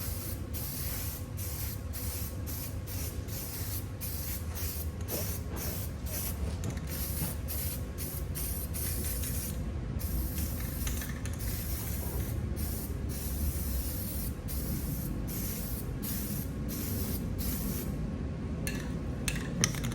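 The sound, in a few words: aerosol spray paint can spraying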